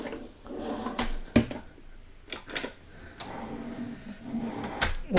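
Drawers in the galley of a Marex 375 yacht slide open and shut several times, giving close wooden bumps and sliding thuds in an uneven rhythm.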